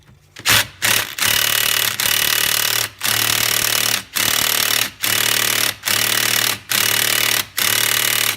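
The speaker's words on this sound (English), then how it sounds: "I have it on a big 1/2-inch drive Mac ratchet so I can get some torque to get it out" A big Mac 1/2-inch drive ratchet works loose a front wheel bearing bolt on a Buick Regal GS, loud rapid clicking strokes repeating in a steady rhythm with short pauses between swings.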